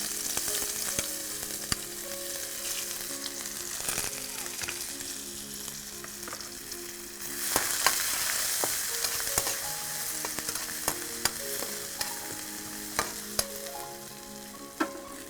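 Chopped onion sizzles steadily in a pan with garlic for fish Manchurian, while a utensil stirs and scrapes against the metal in irregular clicks, the frying swelling louder midway.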